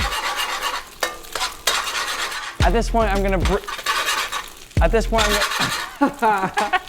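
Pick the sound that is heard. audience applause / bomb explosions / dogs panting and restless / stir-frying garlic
stir-frying garlic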